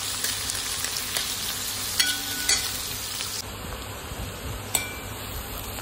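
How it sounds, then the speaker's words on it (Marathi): Finely chopped onion with crushed garlic sautés in a pan, giving a steady close sizzle with occasional clinks and scrapes of a stirring spoon, no voices. "कांदा आता आपण लाल होईपर्यंत परतून घेऊया त्याला"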